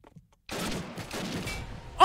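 Gunfire from an inaccurate gun in a video game breaks out after a brief silence as a loud, continuous rapid burst, with a sharper spike at the end.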